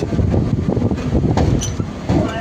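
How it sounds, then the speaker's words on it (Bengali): Rumbling, rattling noise of a local train in motion heard from inside, steady and loud with clattering bumps. "দেখুন বন্ধুরা, ট্রেন ছেড়ে দিয়েছে।"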